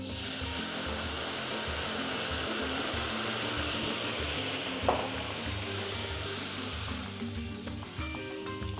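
White wine poured into a hot pan after browning beef sizzles with a broad, steady hiss and low rumble, a brief bright clink near the middle, continuing evenly without talk.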